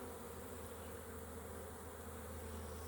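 Honeybees from a nuc hive hum in a steady, dense drone, a faint continuous buzz from a packed colony with no voices.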